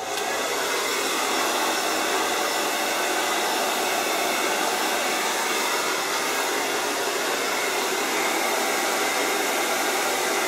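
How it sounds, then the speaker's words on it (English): A hair dryer blows steadily and loudly up close while blow-drying short hair with a brush, a constant whooshing roar with no pauses and no voices. "then pick up your dryer"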